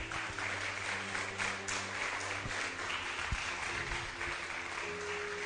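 Continuous crowd applause at an evangelistic church service fills the space, a thick wash of clapping held at an even level, with faint tonal hum underneath.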